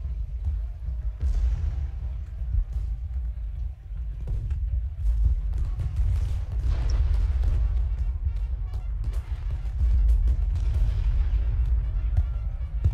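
Cannon artillery fire from the Ultimate General Gettysburg battle game, a dense, loud run of deep booms and rumbling blasts overlapping almost continuously, heard without talk.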